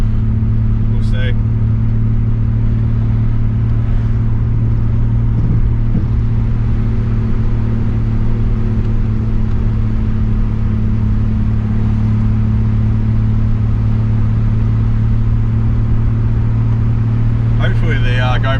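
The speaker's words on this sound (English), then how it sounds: "This car does sound pretty good. Brad did a good combination with the exhaust that he picked" A Ford FG XR6 Turbo with the Barra engine and an aftermarket exhaust runs nearby with a loud, steady, deep drone that stays level throughout, with no sharp revs standing out.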